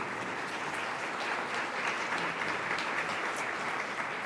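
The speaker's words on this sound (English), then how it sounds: "Let's give them a round of applause." An audience at a Central Ohio forum on housing and health applauds its sponsors with dense, even clapping from many hands that holds at a steady level throughout, with no voices over it.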